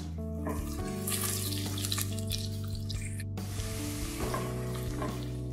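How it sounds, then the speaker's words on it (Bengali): Chopped onion fries in a pan, giving a steady sizzle with intermittent stirring scrapes and clinks. The frying is close and continuous, with no talk. "পেঁয়াজটা হালকা করে ভাজা হয়ে গিয়েছে।"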